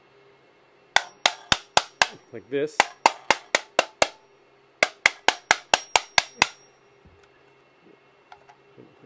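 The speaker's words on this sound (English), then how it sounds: "So if I bang on the edge here" A VPT claw hammer bangs on the edge of a C-Product 7.62x39 rifle part in three sharp, close bursts of about six or seven evenly spaced metallic knocks, with brief talk between them.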